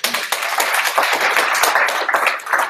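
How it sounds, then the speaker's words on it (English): Audience applause for a presenter at a tech meetup, close and fairly loud dense clapping with distinct individual hand claps that runs steadily throughout. "Another round of applause for Dave."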